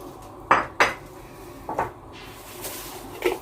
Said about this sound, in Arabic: فصين توم والجزر والطماطم والبصل هنبدا نسقطهم